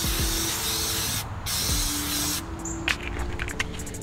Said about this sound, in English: It's just some rust cleaner, get that surface rust off.